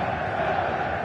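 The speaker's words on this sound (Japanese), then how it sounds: "勝利を信じたサポーターの歓声がスタンドに鳴り響いています。" A stadium crowd in an eFootball video game for a Bayern Munich home match at the Allianz Arena, a brief steady roar of cheering supporters, dense and continuous.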